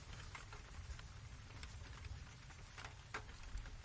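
Steady rain falling at night on a small square with a central garden in London, a dense constant hiss with scattered sharper drips and patters over a low rumble, with no voices.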